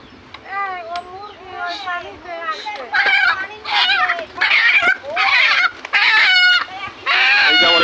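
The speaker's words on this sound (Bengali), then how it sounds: "এই যে আমার এই মুরগি পাওয়া গেছে" A hen clucking and squawking in repeated loud bursts close by, growing more agitated as it goes, with people's voices around it.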